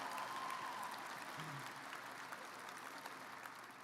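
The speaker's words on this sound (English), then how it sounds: "Please join me in recognizing him with another round of applause." Audience applause at a university graduate commencement ceremony, a steady wash of clapping from a large crowd, fairly soft and distant, continuing throughout.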